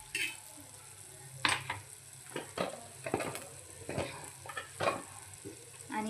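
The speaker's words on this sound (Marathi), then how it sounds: "आता आपण काय करू, कांदा याच तव्यावर एका साईडला लावून घेऊ" Onions frying on a griddle sizzle steadily while a spatula scrapes and pushes them to one side, with several close clinks and scrapes over the continuous frying hiss.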